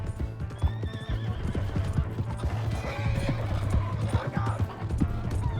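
Horse hooves clip-clopping in a steady rhythm, with a whinnying neigh over them, in the Red Dead Redemption 2 video game, set against background game sounds.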